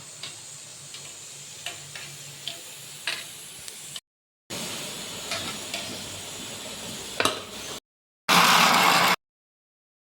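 Oil sizzling in a cooking pan, a steady frying hiss with faint ticks and stirring clinks, broken by short silent gaps and ending in a louder burst of sizzle.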